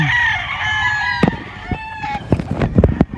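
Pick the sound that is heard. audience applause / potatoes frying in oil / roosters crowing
roosters crowing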